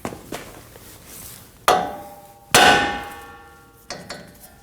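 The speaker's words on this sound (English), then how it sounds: "we're just going to strike on the knuckle right here to release the tie rod" Hammer striking the steering knuckle of a 2015–2022 Chevrolet Colorado to free the tie rod: a few sharp metallic clangs with ringing decay, two heavy blows flanked by lighter taps, close and loud.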